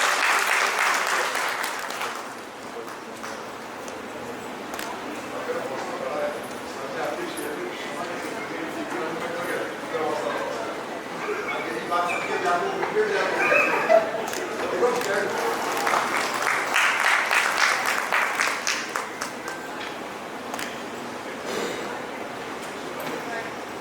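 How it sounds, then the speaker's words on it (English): Sustained crowd applause at a school principals' conclave in Lucknow, steady clapping from many hands swelling and fading over about twenty seconds, with a brief voice in the background. "Audience, please give a big round of applause."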